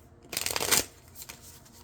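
Tarot cards being shuffled by hand, a brisk riffling burst that swells and fades, followed by a couple of softer card sounds, close and quiet.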